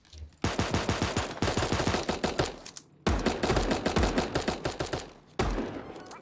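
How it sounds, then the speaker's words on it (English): Bursts of rapid automatic gunfire in a shooting video game, three long loud volleys of fast repeated shots separated by brief pauses. "I hear gunshot."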